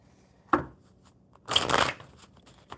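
A deck of tarot-style reading cards is shuffled by hand, close and quiet: a short riffle snap, a pause, and then a longer burst of cards flicking together, with no talking.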